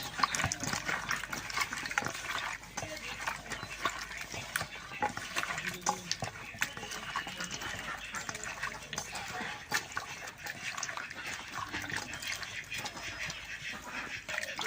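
Cut raw banana pieces being washed by hand in lightly salted water, a steady sloshing and splashing close by that continues throughout with small clatters, while someone speaks over it.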